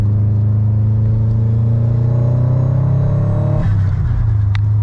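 A Subaru STI engine with a new modification revs up loudly with a deep exhaust rumble, the pitch climbing steadily before dropping back to a steady idle.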